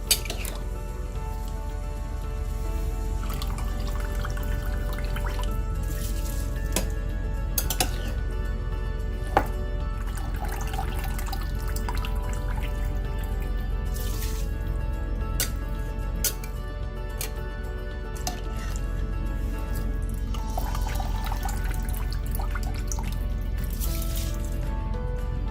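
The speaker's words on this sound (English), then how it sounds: "going to drain the water off of the rice" Water drains off soaked basmati rice for a South Indian chicken biryani, a steady, continuous trickling and splashing that runs throughout over a constant tonal background.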